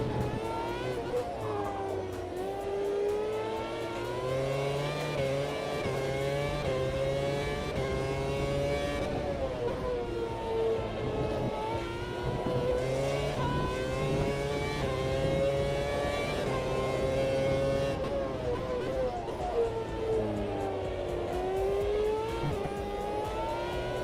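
Race car at full speed in the AMS2 racing game, a steady mid-level engine whine that rises and falls through gear changes and corners for the whole lap segment.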